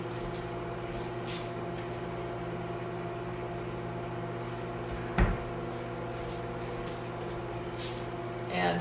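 A spice cupboard door in a home kitchen opens with a single soft knock and rattle about midway, heard quietly against a steady background hum, with no talking.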